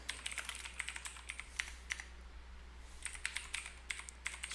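Quick bursts of keystrokes on a computer keyboard, close and crisp, coming in irregular clusters with a short pause in the middle before another run of tapping.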